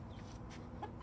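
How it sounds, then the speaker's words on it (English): Chickens in their coop giving a few soft, close clucks over a low background rumble, brief and faint. "So yes, we got all of our chickens in here."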